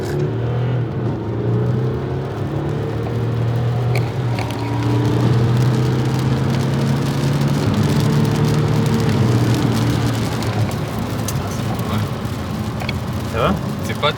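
Audi A5 car accelerating hard from inside the cabin, a steady rising engine drone with harmonic whine building over about fourteen seconds, loud and continuous, with people talking over it.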